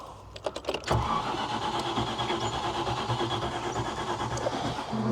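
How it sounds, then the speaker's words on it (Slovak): Land Rover Defender 110 engine cranking on the starter in a workshop, a quick whirring turnover that catches into a steady rough idle, close and fairly loud, no talking. "Trošku pridám plyn pri štartnutí."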